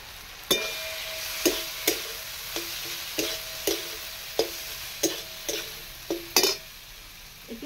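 Soybean masala fries in a pan while a utensil stirs it. About ten rhythmic scrapes and clinks land close and clear over a soft background sizzle.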